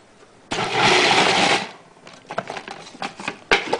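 Food processor whirring through a raw vegan chocolate cake mixture, a loud steady burst of about a second, then rattling, uneven knocking pulses as the thick mix lumps up inside the bowl.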